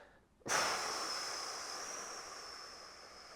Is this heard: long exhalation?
yes